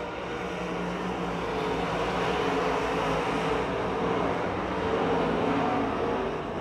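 Race cars roaring down the back straight at Pennsylvania Motor Speedway near Pittsburgh, a steady, loud engine drone that holds without a break and carries no speech.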